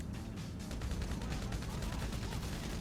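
Gunfire in the video game GTA Online, dense rapid bursts of shots crackling and booming together in a loud, continuous fusillade with no pauses, heard close and without speech.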